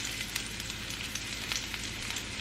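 Garlic and shallots sautéing in a pan, a brief dense crackling sizzle with small pops, close and steady, no talk.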